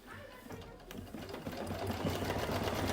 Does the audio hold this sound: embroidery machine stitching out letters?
yes